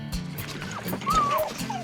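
A rabbit hunting dog whines and yelps with rising whimpering cries over steady outdoor background noise during a hunt in Henry County, moderately close, with no talk over it.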